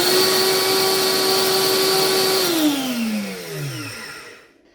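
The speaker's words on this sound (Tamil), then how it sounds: "இது இதில் வந்து நான் இப்போ கொஞ்சம் கொஞ்சமாக போட்டு இதை அரைக்கிறேன்." A mini mill grinding roasted chillies into powder whirs loudly and steadily, then its pitch slides downward as the motor winds down and cuts off to near silence at the end.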